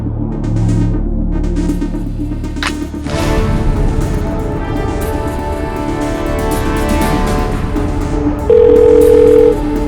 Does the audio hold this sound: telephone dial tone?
yes